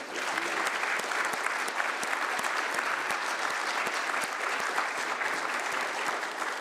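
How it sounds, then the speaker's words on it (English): Audience in the Sumner County, Tennessee county commission chambers gives a round of applause, close, steady clapping from a modest crowd with distinct individual claps standing out, sustained throughout. "give her a big round of applause"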